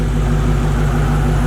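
Dodge Challenger Hellcat with a Legmaker intake and stock exhaust, idling with a loud, steady low-pitched rumble and a faint tonal hum, close to the car and without talk.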